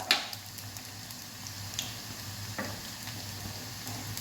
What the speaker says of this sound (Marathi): छान परतला आपला कांदा